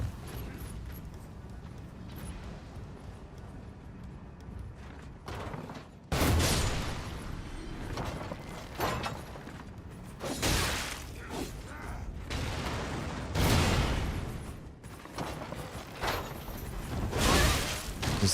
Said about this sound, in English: they just turn because they hear the Ballista shoot